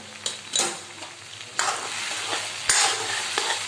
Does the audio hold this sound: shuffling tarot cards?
no